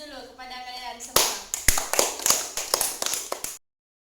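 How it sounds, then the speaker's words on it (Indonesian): Students in a classroom applaud with a burst of sharp, uneven hand claps that follows a teacher's speech and lasts about two and a half seconds before cutting off abruptly. "kita berikan aplaus dulu kepada kalian semua"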